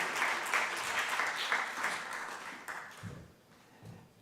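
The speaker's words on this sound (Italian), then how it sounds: "Un applauso" Audience applause welcoming a guest speaker at a Sardinian cultural event, a dense steady clapping that fades out toward the end, with a couple of low thumps near the close.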